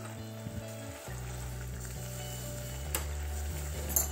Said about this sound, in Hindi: ये देखिए अब अच्छे से बॉयल आ चुका है इसमें